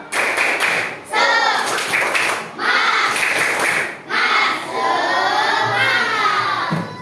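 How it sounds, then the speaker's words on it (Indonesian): A classroom group performs the 'tepuk semangat' clapping chant, with four loud bursts of patterned, rhythmic clapping separated by short pauses, mixed with children's shouting voices. "Sekali lagi, tepuk semangat."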